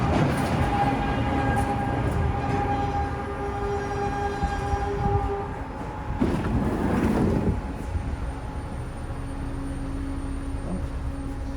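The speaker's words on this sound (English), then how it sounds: "How do you like the People Mover?" Detroit People Mover train on an elevated ride, a continuous close rumble of wheels with electric motor hum and tonal whine, a louder rattling swell midway, no talking.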